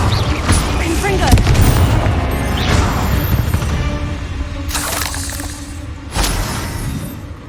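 Confringo blasting spells explode repeatedly in Hogwarts Legacy, loud booming bursts with shattering crashes, several sharp hits spread across the stretch amid game noise, one strong blast near the end.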